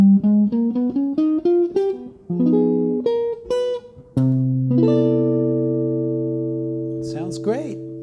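Jazz piano-like chords: a series of short plucked arpeggiated dominant voicings, then a sustained low major chord that rings out and slowly fades, with a faint rising bend near the end.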